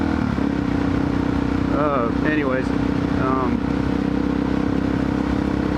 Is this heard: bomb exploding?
no